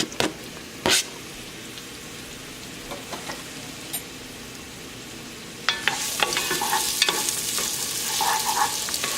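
Onion for a spicy Tex-Mex chili is dropped into a hot pot, with a few sharp knocks and clatters before a loud, close sizzle swells up and holds steady to the end.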